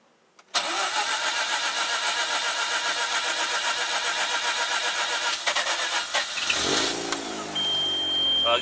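A Mazda RX-8 rotary engine cranks and catches abruptly, then runs at a steady, buzzy idle with a slight blip near the end, close and loud.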